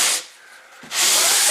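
Light sanding strokes across a dried drywall patch, two brief close, breathy scrapes with a short pause between them.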